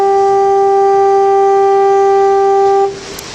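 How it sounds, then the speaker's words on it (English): A foghorn by the sea on a snowy day sounds one loud, steady, sustained blast lasting nearly three seconds, then cuts off, leaving quieter background noise. "With or without the foghorn"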